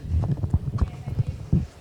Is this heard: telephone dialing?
no